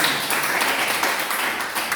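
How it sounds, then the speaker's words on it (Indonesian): Classroom applause from students, a steady dense patter of many hands clapping throughout at a moderate, even level. "Tepuk tangan kita."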